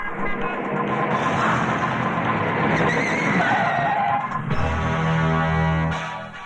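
A car brakes hard and skids to a stop on a road, a loud sustained tire screech and engine roar that swells, then a lower grinding as it settles before fading at the end.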